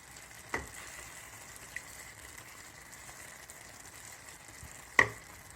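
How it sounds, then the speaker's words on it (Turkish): Butter being stirred into a Black Sea bean dish in a pan, a quiet continuous sizzle with a few sharp spoon knocks against the pan, no talking. "Evet tereyağımızı güzelce içine karıştırdım."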